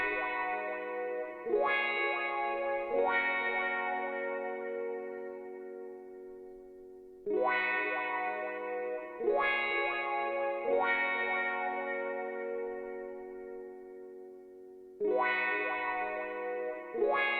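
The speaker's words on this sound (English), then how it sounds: "And then the last thing I added was wah guitar." Wah guitar sample run through tape, sustained harmonic chords struck in repeated phrases every few seconds, each swelling and slowly decaying with a warbly, saturated tone and no voices.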